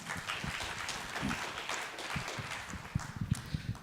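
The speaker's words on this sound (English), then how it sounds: "Please give them a round of applause." Scattered clapping from a small panel audience, fairly quiet and uneven, swelling briefly toward the end with a few sharper claps.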